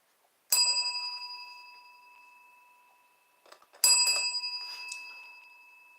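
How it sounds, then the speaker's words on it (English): Hand bell rings twice, each a sharp metallic ding with a long decaying ring, the strikes about three seconds apart, with faint rustling between them. "There's my bell."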